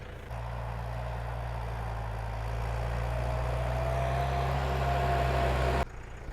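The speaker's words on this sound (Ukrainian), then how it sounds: "Воно почули, що Коля завів трактора" A heavy tractor engine idles steadily with a low, droning rumble, close by, then cuts off abruptly near the end.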